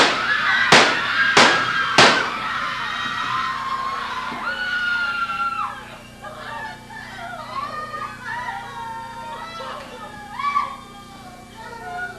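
Three sharp, loud gunshots crack in quick succession, one about every second and a half, as a staged school shooting effect in an audio drama, followed by screaming and yelling voices.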